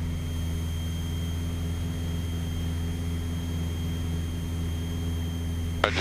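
A twin-engine airplane climbing at 25 inches of manifold pressure and 2,500 RPM, its engines producing a steady, droning hum with propeller tones throughout, heard from inside the cabin with a brief click near the end.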